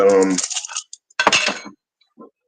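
Metal spoon clinking against cookware in a home kitchen as a spoon is grabbed during quick meal prep, a short cluster of bright clinks after a voice, then scattered light taps.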